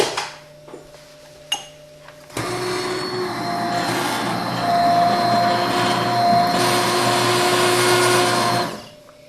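An electric grinder gives spices a rough grind for an Indian rasam-style soup after a few clicks and knocks, running loud and steady for about seven seconds with a whirring, rattling roar before stopping abruptly.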